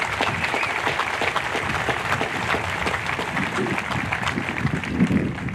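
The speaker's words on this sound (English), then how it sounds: "So let's give them a round of applause before we start." A crowd applauds a student choir at a nuclear power school graduation ceremony, with a steady, dense wash of clapping that holds throughout and has no talk over it.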